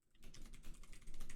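Computer keyboard typing during game development coding, a brief, dense flurry of fast muffled key clicks that starts after a short quiet moment and continues steadily to the end.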